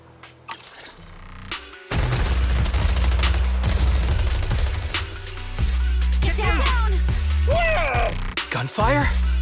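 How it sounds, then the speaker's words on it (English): Sustained suppressive gunfire rattles loudly in the Zenless Zone Zero video game, a dense, continuous fusillade running behind mechanical clanks and sharp bright game effects near the end. "Gunfire? This pattern. Suppressive marching fire."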